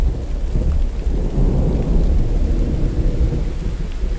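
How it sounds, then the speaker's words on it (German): Rain and thunder in the video game The Infected: a deep, continuous rolling rumble of thunder over steady rain, loud and unbroken with no talking. "Zum Glück regnet's."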